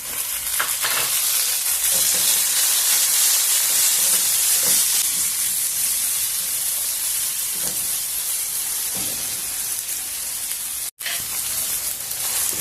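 Tomatoes frying and softening in a pan with capsicum for capsicum rice, a continuous loud sizzle and hiss with occasional stirring scrapes, one brief cut near the end.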